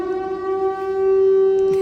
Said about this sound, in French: Qu'est-ce que c'est que cette sirène?